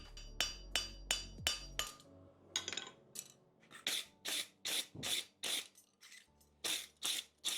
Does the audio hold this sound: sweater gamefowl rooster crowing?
no